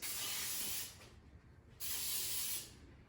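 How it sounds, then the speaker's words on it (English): Cooking spray hisses from a can in two bursts of just under a second each, separated by a short pause, close and fairly quiet. "let's go ahead and spray this"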